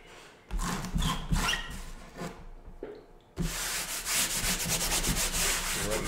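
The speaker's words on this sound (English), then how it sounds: "So I'm using a pickup eraser as I do this." A pickup eraser rubs across watercolor paper in bursts of close, dry scratchy scrubbing, with a brief pause before a longer steady stretch of rubbing.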